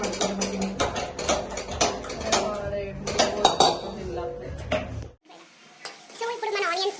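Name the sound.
onions frying and being stirred in a kadai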